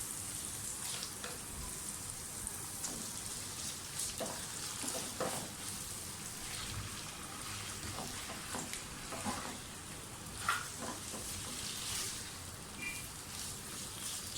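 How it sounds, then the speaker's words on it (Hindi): Chicken pieces sizzle and fry in hot oil with carrots and green chillies, a continuous crackling hiss with scattered pops and occasional stirring scrapes, close and steady throughout. "चिकन को इस हद तक भूनें कि इसका कलर जो है वो चेंज हो जाए"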